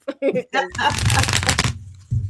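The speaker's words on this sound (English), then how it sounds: "I shuffle really loud." Tarot cards are shuffled loudly and close up in a quick, rippling burst of about a second. Brief speech comes before and after the shuffle.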